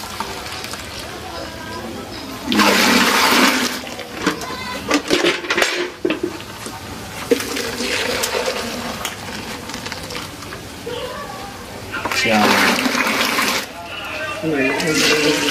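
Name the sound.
milk poured into a bucket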